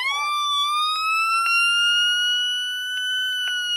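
Engraved Midland 74-105 electronic siren gives one shrill, steady high-pitched wail that rises slightly and holds close and loud for a few seconds.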